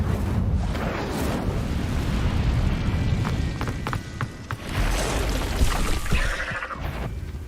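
An Incendio fire spell cast in the Hogwarts video game erupts in a loud, roaring whoosh of flame with crackling bursts that swells, dips briefly and flares again.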